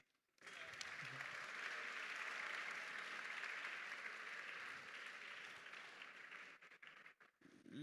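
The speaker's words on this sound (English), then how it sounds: "Can we have one more huge round of applause for him" An audience at a public lecture breaks into sustained, dense applause that starts abruptly and holds steady for about six seconds before thinning out, heard at a moderate distance.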